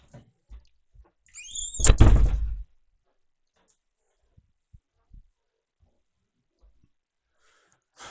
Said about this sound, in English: I've got to close the door.